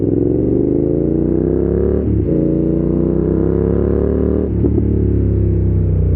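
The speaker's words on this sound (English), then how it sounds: "Now what I like about most with 270 crank engines is how good they sound at low RPMs" A BMW F900R motorcycle's 270-degree crank engine idles and lightly revs at low RPM, producing a deep, uneven, throbbing rumble that stays steady and close throughout.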